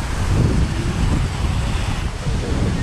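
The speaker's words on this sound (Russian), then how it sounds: "Здесь водопад искусственный." An artificial waterfall in Antalya, Turkey, roars as a continuous, loud, broadband rush of falling water with wind buffeting the microphone, and no talking.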